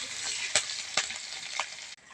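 Cumin seeds fry in hot oil in a pan, a steady close sizzle broken by a few sharp scraping stirs, alone and without voices, fading to quiet near the end.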